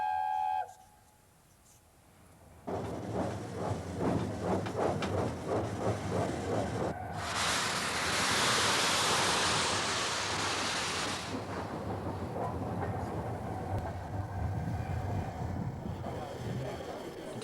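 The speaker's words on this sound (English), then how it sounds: "the proud locomotive leaves her shed on the way to pick up her train." LNER 4468 Mallard steam locomotive moves off from its shed, with rhythmic chuffing, then a loud broad burst of steam, and continued rumbling under someone narrating.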